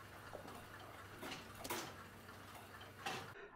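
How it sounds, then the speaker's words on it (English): Self-winding subsidiary slave clock movements with their hands removed, synchronizing on the hour: a few sharp mechanical clicks and ticks sound close up over a low steady hum. "Watch both of these subsidiary clocks as they are synchronized."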